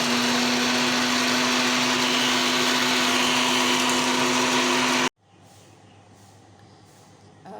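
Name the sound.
blender grinding roasted flax seeds, mint, ginger powder into powder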